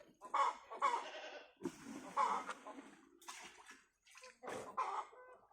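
About 200 ml of liquid potash fertilizer is mixed into water for organic farming. Nearby sloshing and splashing come in several uneven bursts separated by short pauses, with no talking.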